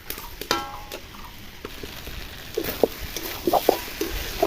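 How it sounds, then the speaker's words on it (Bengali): Potatoes being stir-fried with meat in a pan while cooking a meat curry: faint background sizzle with intermittent scraping and clinking of a spatula stirring, growing busier toward the end. "এবার আলুগুলো দিয়ে দেব। ওইভাবে কিছুক্ষণ কষিয়ে নিচ্ছি।"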